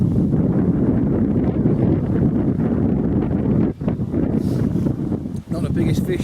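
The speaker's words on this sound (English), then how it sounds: "Wind's getting up now. Northerly wind, northwesterly wind." Strong wind buffets the microphone at a lakeside, a steady, dense low rumble that dips briefly twice but barely lets up.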